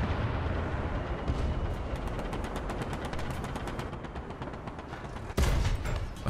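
Artillery fire in War Thunder, a dense rolling barrage of rapid distant blasts and machine-gun-like rattling, ending in one loud, close explosion near the end, with no talking.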